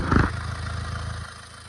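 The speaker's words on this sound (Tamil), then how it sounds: "இந்த இன்ஜினில் வந்து பார்த்திங்கன்னா கியர் பாக்ஸ் இல்லாமல் தான் இப்போ நான் ஓட விட்ருக்கேன்" A Honda engine runs without its gearbox, giving a steady mid-pitched clattering idle with a brief louder burst at the start.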